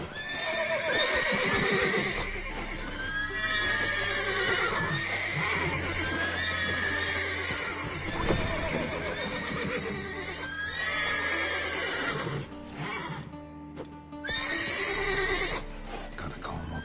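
Several horses neigh and whinny repeatedly in The Witcher 3: Wild Hunt, with hooves clip-clopping underneath, layered with game ambience throughout.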